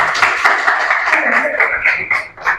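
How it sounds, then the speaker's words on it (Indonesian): A class claps for a student group in a school session, uneven close hand claps of moderate loudness with people talking over them. "Tepuk tangan dong untuk kelompok 1."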